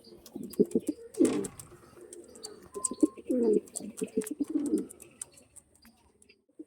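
Pigeons from a batch of flying-line breeding pairs, including a hen, coo close by in several throaty bursts, with softer calls and brief gaps between them.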